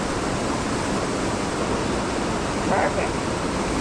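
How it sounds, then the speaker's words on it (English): Water pours steadily from the raised end of a pipe outdoors in icy weather, a loud continuous rushing splash close by, with a brief spoken word near the end. "You got to get the end high enough though, so the water is flowing out of it."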